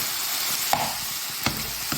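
Food frying in a pan gives a steady, close sizzle, broken by a few soft scrapes and knocks of a utensil stirring it.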